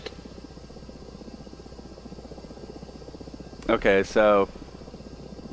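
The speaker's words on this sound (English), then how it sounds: "the transport helicopter, probably an Mi-8, is coming to pick these guys up" A steady, buzzing rotor thrum from an Mi-8 transport helicopter runs throughout a video game mission, with someone briefly speaking over it near the end.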